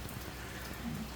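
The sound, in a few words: heavy rain falling in Central Texas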